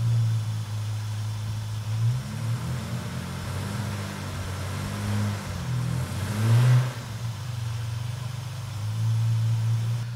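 A stationary automatic car engine, reportedly low on transmission fluid, idles with a steady low rumble, revving briefly a couple of times while reverse gear fails to engage.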